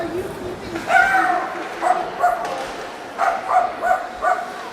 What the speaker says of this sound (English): Oh, who let the dogs in?